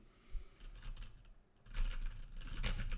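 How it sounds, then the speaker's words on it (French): Computer keyboard keys clatter in quick irregular bursts during a Fall Guys gaming session, faint at first with a brief lull, then busier and louder clicking toward the end. "On entend le clavier là."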